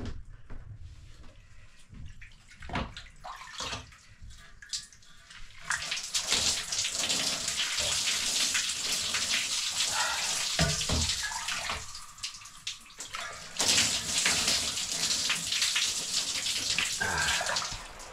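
Water splashes and pours as a person washes with water brought along on a northern road trip, with uneven gushes, trickles and drips, louder bursts toward the middle and end, and no talk.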